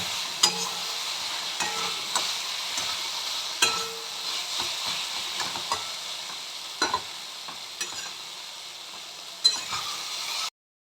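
Spinach being stirred in a pan with fried lentil dumplings (bori), a soft continuous sizzle broken by intermittent scraping and clacking strokes of the spatula, close and fairly quiet, no talking.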